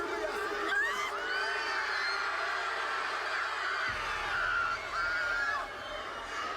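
A wrestling arena crowd erupts in uproar, a broad roar of shouts, whoops and screams that stays loud and steady throughout, with a low hum shifting partway through.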